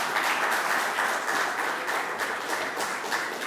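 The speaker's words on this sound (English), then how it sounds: "Let's give a big round of applause" Sustained applause from an audience at the close of a question-and-answer session at a morning talk, a dense, steady wash of clapping heard alone without speech.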